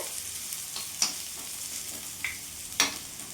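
Chopped onion and green chili fry in a pan with a steady hiss, and a few sharp stirring taps cut through the sizzle.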